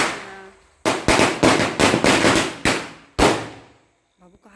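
A rapid string of about eight loud, sharp firecracker bangs bursts close by, each followed by a brief echoing decay, then a faint voice.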